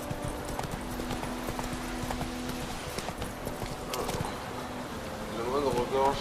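Rhythmic clip-clop of horse hooves trots steadily under a low droning background, with a brief whinny-like sound near the end, from the video game The Witcher 3.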